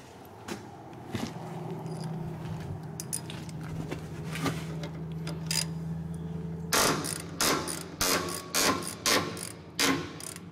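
Brake slack adjusters on a semi truck being loosened with a wrench, giving close mechanical clicking and ratcheting, then a run of sharper, louder ratchet bursts in quick succession near the end.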